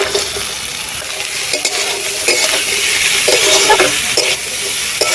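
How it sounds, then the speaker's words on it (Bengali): Chopped potatoes go into a pan of fried onions with black cumin, bay leaf and whole dried chillies, frying with a steady loud sizzle while a utensil stirs and scrapes in repeated short strokes, no talking. "পেঁয়াজগুলো ভাজা হয়ে গেছে এবারে দিয়ে দেব আলু কুচি"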